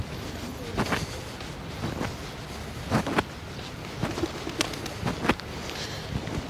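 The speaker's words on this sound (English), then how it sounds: "A few pigeons at this bit. This must be pigeon area." Pigeons coo in soft repeated bursts along a beach road in Pattaya, Thailand, set against steady outdoor background noise with a few brief footstep-like sounds.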